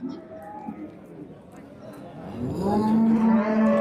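A cow at a Karshi cattle market lets out a long, loud, low moo near the end, over a background of crowd chatter.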